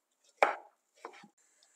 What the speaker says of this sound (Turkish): son bir adet domatesimizi de minik küpler halinde doğruyoruz